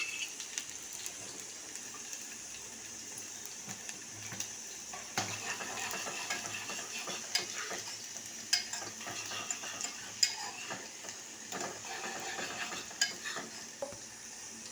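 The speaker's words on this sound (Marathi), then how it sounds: "कांदा छान भाजतोय" Onion frying in a pan for masale bhat, a steady sizzle broken by repeated scraping stirs of a spoon, close and moderately loud with no talking.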